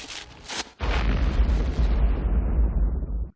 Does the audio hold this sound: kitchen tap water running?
no